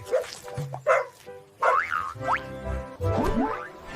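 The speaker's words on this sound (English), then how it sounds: "D for dog. D, dog." A dog barks in a children's ABC phonics song, with several short, bright yaps and bouncy pitch sweeps that sound cartoonish over light musical tones.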